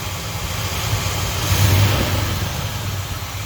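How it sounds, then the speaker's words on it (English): A 1971 Cadillac Coupe Deville's 472 V8 revs in a garage, a steady loud low rumble swelling to one brief peak near the middle before easing back, with no talking. "All right, we're gonna do a little rev test here."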